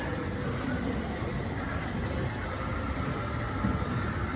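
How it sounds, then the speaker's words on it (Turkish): A children's amusement park train ride rumbles along in a continuous, even mechanical drone with a faint hiss, and no clear voices. "Çuf çuf gidiyor tren çuf çuf."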